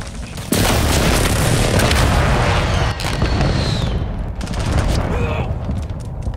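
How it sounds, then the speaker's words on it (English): An enemy precision airstrike in the Call of Duty Modern Warfare game, heavy booming explosions and crackling gunfire rolling continuously and loud, with brief voices over the battle noise. "Enemy precision airstrike."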